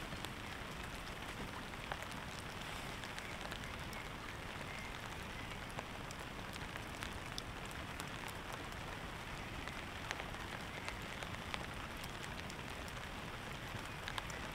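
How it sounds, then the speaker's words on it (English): Rain falls steadily on a tarp shelter at a wet campsite, a dense, even patter of drops that runs unbroken and close throughout, with no voices. "I love how the rain just comes and goes."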